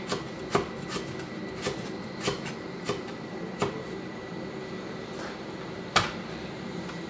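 Ginger chopped on a chopping board, a series of crisp knife knocks at an irregular but steady pace over a soft background hum, fairly close.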